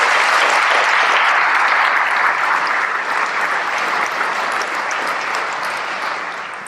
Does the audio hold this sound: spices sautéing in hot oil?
no